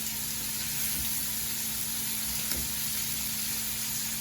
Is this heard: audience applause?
no